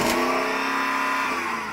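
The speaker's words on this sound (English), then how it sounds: "We should do a rev test. So I'm going to rev up this one" A naturally aspirated V8 in an old SUV revs up, the engine note droning steady and loud close by for a brief moment, with no talking over it.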